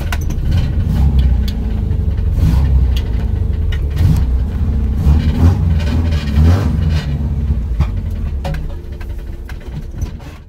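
Toyota Starlet engine idling steadily for about ten seconds, a loud, close low rumble with a fairly even level and no starter crank clearly set apart.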